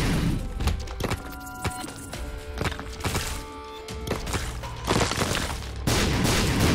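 Bomb explosions in the video game The Binding of Isaac, a string of punchy thuds and bangs at uneven intervals, loud and up front over game music, with the last bursts the heaviest.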